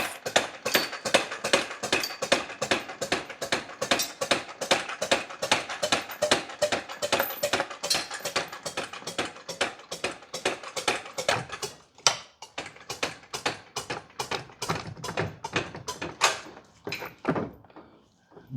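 A hydraulic jack pumped in a garage to raise a car gearbox during clutch fitting: steady rapid rhythmic clicking strokes repeating close by for most of the span, slowing and stopping near the end.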